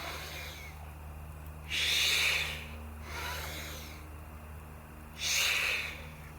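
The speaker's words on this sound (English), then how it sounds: "I reach as high as I can and inhale, hold for 2 seconds, and then I exhale" Two deep breaths during a morning breathing exercise, each a loud, long, airy rush lasting about a second, one near the start and one near the end, with a softer exhale between them. Close to the microphone, with no talk.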